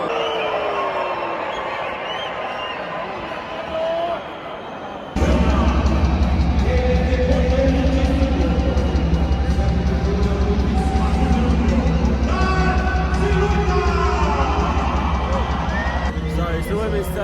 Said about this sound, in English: There's booing.